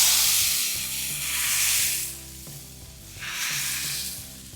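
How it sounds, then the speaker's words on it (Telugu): Hot garlic tempering poured into bottle gourd rasam sizzles loudly in two strong bursts, a bright steady hiss that swells and fades over a low kitchen hum, with no talking. "ఈ వెల్లుల్లి వేయండి. దీన్ని చూడండి ఇలా వేసి వేడిగా తాలింపుని మన రసంలో"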